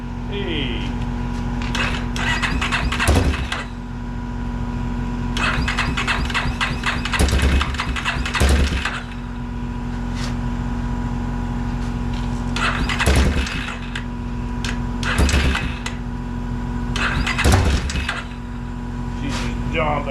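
A carbureted engine on a Warrior project keeps cranking and trying to start, with repeated rhythmic cranking bursts every couple of seconds over a steady hum and a voice talking nearby.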